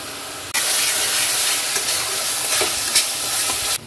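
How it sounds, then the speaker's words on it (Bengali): A paste of ginger, chilli, tomato and raisin hits a hot pan and bursts into a loud, steady sizzle that holds for about three seconds with faint stirring scrapes, then cuts off abruptly. "এই মশলাটা দিয়ে দিলাম, আদা লঙ্কা টমেটো আর কিশমিশ বাটা"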